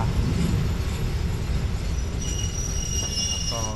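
An ordinary passenger train's wheels squeal and grind on the rails under a loud rumble as it slows to a stop at Salaya station, Thailand, with shrill high-pitched screeches toward the end.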